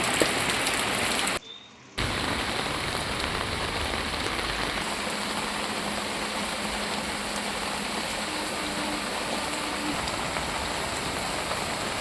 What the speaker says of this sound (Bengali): দারুণ দেখতে লাগছে বৃষ্টি চারদিকে